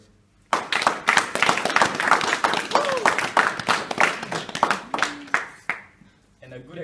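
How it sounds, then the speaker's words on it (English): An audience at a school camp breaks into loud, sustained clapping that swells quickly and holds steady for several seconds before tapering off, with a few cheers and whoops rising above the applause. "can we please give them a huge round of applause?"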